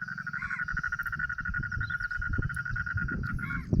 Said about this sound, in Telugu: కప్పలు కూడా అరుస్తున్నాయి